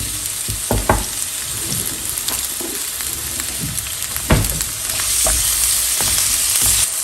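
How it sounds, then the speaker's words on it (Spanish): Sliced onion half-moons frying in a splash of oil in a skillet, giving a steady close sizzle with scattered stirring scrapes and clinks, the hiss swelling slightly louder toward the end. "En un sartén vamos a agregar un chorrito de aceite. Y voy a agregar una cebolla en medias lunas."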